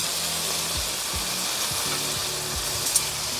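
Marinated beef tapa frying in a pan, a steady close sizzle with faint low clicking and scraping beneath, continuous throughout with no talking.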